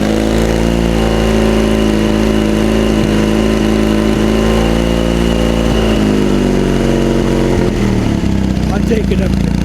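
A vintage Triumph engine runs loud and close, with a steady, dense mechanical drone and a slight shift in pitch toward the end. Someone speaks over it.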